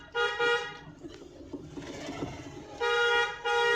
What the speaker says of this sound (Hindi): लंबा हॉर्न मारो।